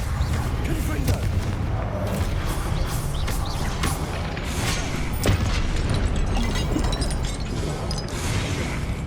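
A Confringo fire spell in Hogwarts Legacy bursts into a dense, sustained explosive roar with crackling impacts, loud and continuous throughout as combat rages in the game.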